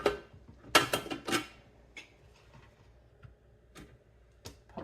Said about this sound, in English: Pop simmering basket in.